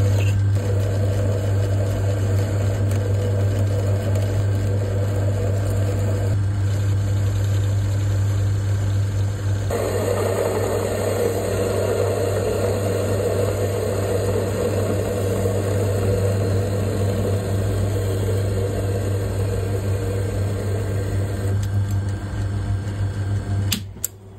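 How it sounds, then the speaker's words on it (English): Lathe cutting a 60-degree point on the end of a silver steel ground rod, a steady mechanical hum with a low motor drone running throughout, louder midway as the cut proceeds. "I'm going to cut a 60 degree point on the end of this silver steel ground rod"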